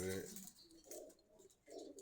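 Pigeons at a Dhaka bird market coo in soft, low, rounded calls, a few close notes rising and falling over a quiet background.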